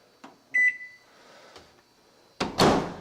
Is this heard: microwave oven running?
yes